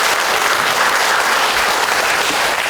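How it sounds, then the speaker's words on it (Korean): A large congregation at a Korean Buddhist memorial service for peace and reconciliation between North and South Korea claps loudly and continuously, a thick, even roar of applause with no letup. "여러분 모두를 위해서 저는 한번 박수를 쳤으면 좋겠습니다."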